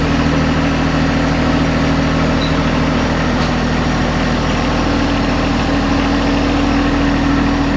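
A John Deere tractor carrying a 60D mower deck idles steadily nearby, its diesel engine holding a constant low rumble with a faint mechanical hum that stays even and unbroken throughout.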